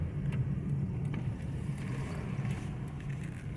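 A steady low boxer-engine rumble drones throughout from a 2005 Saab 9-2X 2.5i AWD wagon cruising, with a constant hum and some wind noise over it.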